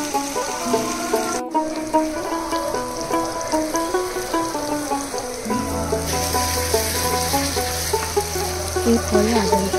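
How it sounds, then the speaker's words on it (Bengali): Onions and tomatoes fry in a pan for a Bengali mutton kosha curry, a dense continuous sizzle with bubbling crackle, loud and close, with background music playing throughout. "পেঁয়াজগুলো হালকা যখন লাল লাগছে ভাজা হয়ে যাবে"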